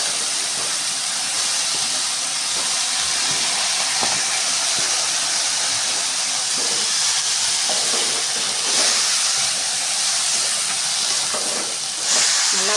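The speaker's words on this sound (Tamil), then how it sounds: "வதக்கி எடுத்துக்கலாம் பாருங்கள் வதங்கிட்டுருக்கு" Chopped ridge gourd with its peel sautéing in a pan, giving a steady broad hiss and sizzle, even and close throughout with no talking.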